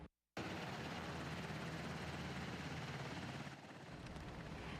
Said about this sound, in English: 3 Black Hawk helicopters and 1 Huey from the Knox County Sheriff's Office landed on the south lawn of World's Fair Park around 9:15 this morning